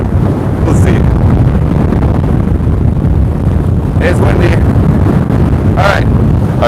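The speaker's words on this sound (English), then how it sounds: "It's windy." Strong wind at a volcano buffets the microphone continuously with a heavy low rumble, and brief faint sounds surface now and then.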